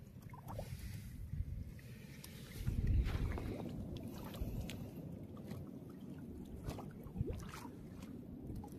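A small boat rocking on water, with lapping and low splashing noise throughout and a heavier swell of water sound near the start, no voices.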